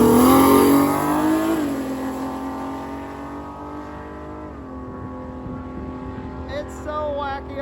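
A nitrous-fed V6 Chevette race car accelerates hard at a drag event. Its loud engine roar climbs in pitch through two gear shifts and then fades into the distance, with faint crowd sounds near the end.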